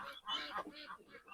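Pekin ducks on a duck farm give a quick run of loud, nasal honking quacks, several overlapping calls close by within a brief burst, with no speech.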